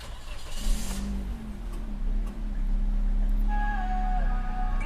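A 2018 Toyota Yaris 1.2 E with CVT automatic cranks and fires up, its engine settling into a steady low idle hum heard close by, with a few faint electronic chimes later on.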